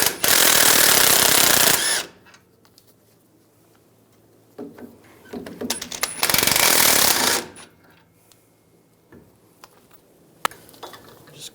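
A 2011-2018 Ram 1500 having its caliper bracket bolts removed with an impact gun and 21mm socket: two loud, close rattling bursts of about two seconds each, separated by quiet clicks and handling noise.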